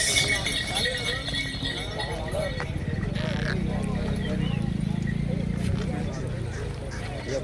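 A pair of bullocks walks at a cattle market, hooves clopping in a steady rhythm close by, with busy crowd chatter and voices underneath.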